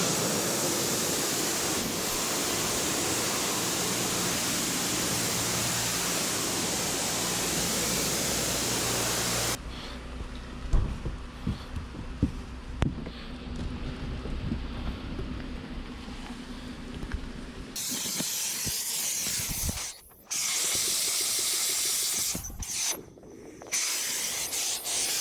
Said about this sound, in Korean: 세차를 하고 출발하려고 세차장으로 왔습니다. 그래서 지금 스노우폼을 뿌려 놓은 상태이고요